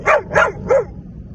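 A Belgian Malinois barks three times in quick succession, close and loud, each bark sharp and slightly yelping, with a quiet tail after the last.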